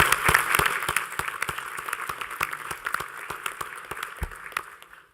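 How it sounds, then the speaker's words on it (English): Audience applause at a New York veterans and military families summit: loud, close clapping with distinct sharp hand strikes standing out over the crowd, gradually thinning and fading toward the end. "Let's give them a round of applause."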